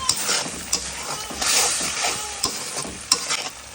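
Onion-paste spice masala frying in oil, a busy sizzle with repeated scrapes and clicks of stirring, close and fairly quiet, with no voices.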